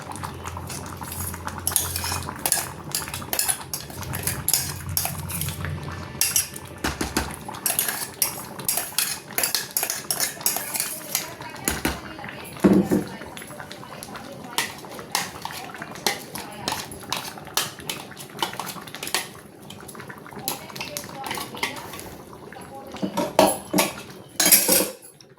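Repeated scraping and clinking of a utensil in a clay pot as thick coconut paste for mango pachadi is stirred, irregular strokes close by, with talking at times.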